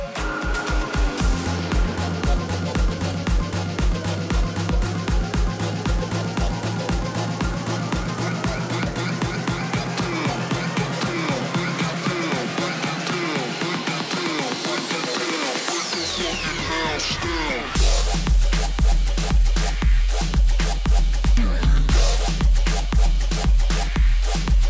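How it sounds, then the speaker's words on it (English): Heavy electronic dance music in a Monstercat style, a long, dense build-up with a rapid pulsing rhythm and rising sweeps, a brief cutout, then a loud drop with thumping bass hits in a steady pattern. "So the drop I'm gonna teach you guys about today sounds like this."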